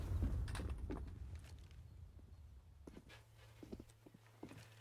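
Footsteps on the Inferno map in Counter-Strike during a tense 1v2 round: a few quiet, scattered steps and clicks over a low background hum, with a soft thud near the start.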